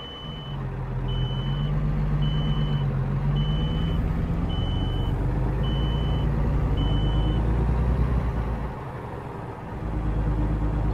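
A truck's reversing alarm beeps steadily in American Truck Simulator, about seven evenly spaced tones over a constant loud engine rumble, then it stops.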